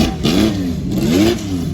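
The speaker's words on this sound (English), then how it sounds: "The engine sounds like mad." A car engine revs hard twice in quick succession, each rise and fall sweeping up and back down, loud and close with no talking over it.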